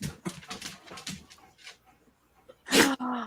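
A 6-year-old Dutch Shepherd lets out a single sharp, loud sneeze up close, after a stretch of quieter snuffling and movement sounds.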